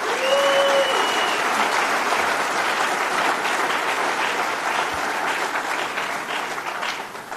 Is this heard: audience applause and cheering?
yes